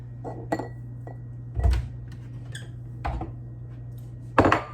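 Lasagna filling stirred in a bowl, with a few scattered clinks and knocks of a utensil against the dish, fairly close and quiet over a steady low hum.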